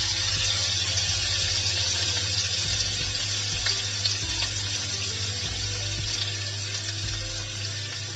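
Chopped garlic and ginger fry in hot oil for a masala pasta, giving a steady, loud, close sizzle that hisses on without pause and with no talking.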